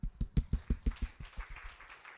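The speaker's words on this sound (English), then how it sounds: "a round of applause." Conference audience claps for a speaker being introduced, a brisk round of applause from a fairly small crowd with distinct hand claps that soften and thin out toward the end, heard from a distance.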